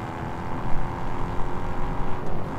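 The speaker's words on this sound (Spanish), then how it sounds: "¿Cómo se oye el sonido de la rueda en el adoquín?" In the racing game Test Drive Unlimited Solar Crown, a car rolls over cobblestones with a dense, rumbling engine and a fluttering, bumpy tire texture, loud and continuous without speech.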